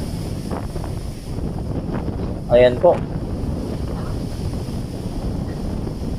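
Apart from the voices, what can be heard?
strong wind and ocean waves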